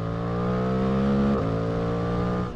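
A Suzuki GSX-8R motorcycle accelerating on a road, its engine note droning steadily with a brief dip as it shifts gear midway, then pulling on again before easing off; close and loud, with no talking.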